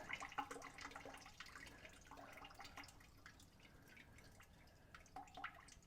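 Water trickles and drips from the drain valve of a camper's hot water tank, faint and uneven, with small splashes and no talking.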